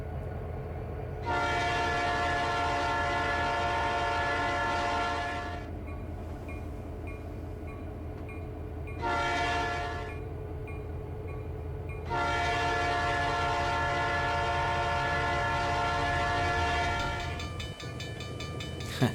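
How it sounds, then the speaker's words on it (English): Model freight train running at speed on a DCC layout, its sound unit giving three long, steady horn blasts, with a continuous rumble of running between them and no talking. "it is one of the few freight trains that gets to run at speed"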